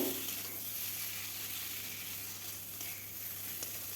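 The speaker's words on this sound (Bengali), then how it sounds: "দিয়ে আবারও কিছুক্ষণ নেড়ে নেব দেখুন ভাজতে ভাজতে এরকম হয়ে গেছে তেল ছেড়ে এসেছে" Pointed gourd frying in oil in a pan gives a steady, close, continuous sizzle with a faint low hum underneath and no voices.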